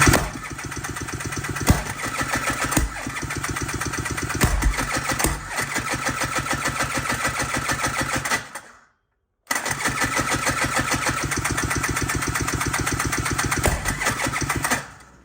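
An FL350 off-road buggy engine runs loud and steady, its rough idle cutting out briefly partway through before firing back up and settling into the same even throb.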